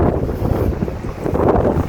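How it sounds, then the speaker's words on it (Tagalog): Strong wind in Japan roars and buffets loudly against the microphone, a continuous rough rumble with no voices. "Lakas ng hangin."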